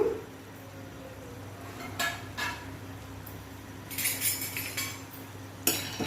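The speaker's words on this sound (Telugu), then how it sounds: "నీట్గా ఇలా కలుపుతూ డ్రై రోస్ట్ చేయండి" Peanuts dry roasting in a pan are stirred with a spoon, making occasional scraping and clinking strokes against the metal over a low steady background hum, with no talk.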